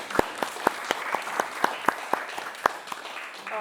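A small audience applauds for a volunteer named Lewis at a neuroscience talk, with individual sharp claps standing out clearly in a sparse, steady rhythm over a soft crowd wash.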